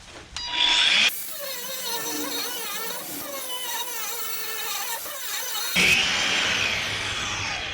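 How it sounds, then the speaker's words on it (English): An angle grinder cuts out the side rivets of a ball joint on a 1966 Ford Galaxie 500, a loud steady whine with a harsh screeching bite at the start and again near the end. "So we'll start by cutting out these 2 side rivets here."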